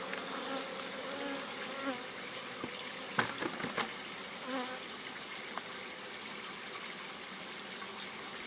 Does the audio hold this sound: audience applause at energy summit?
no